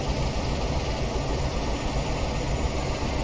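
The diesel engine of a Class 47 locomotive in Train Simulator Classic drones steadily under load, a loud, continuous low rumble with no clear change in revs.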